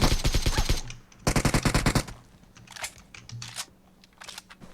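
Rapid bursts of automatic gunfire from PUBG Mobile, two loud sustained volleys in quick succession followed by quieter, scattered distant shots.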